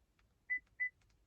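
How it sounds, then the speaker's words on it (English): Two short, clear electronic beeps in quick succession from a 2015-2020 Chevy Tahoe key fob being programmed, close and crisp against a quiet background. "You heard that dual beep?"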